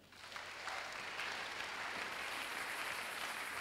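A church congregation breaks into applause during a sermon, a dense steady wash of clapping that swells in quickly and holds at full strength without talk on top.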